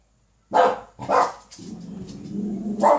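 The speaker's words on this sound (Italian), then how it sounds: "Il mio cane si fa sentire." A dog barks indoors, three sharp close barks spaced across the stretch with a low grumbling growl between them, loud and clear with no talking over it.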